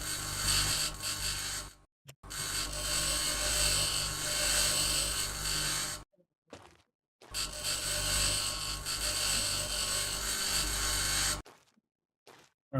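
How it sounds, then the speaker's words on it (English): A grinder in the video game Occupy Mars runs in loud whirring bursts, two long stretches of steady mechanical grinding broken by abrupt silences and brief clicks. "Let's do the grinder."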